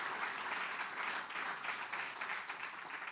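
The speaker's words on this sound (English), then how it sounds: "I want you all to give yourselves a round of applause" Audience applause at a Local Hero Awards event, a steady wash of clapping hands that holds evenly through the whole stretch with no voices over it.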